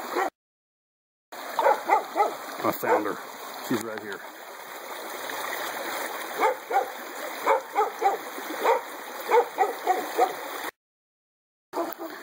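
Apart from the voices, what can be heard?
dogs barking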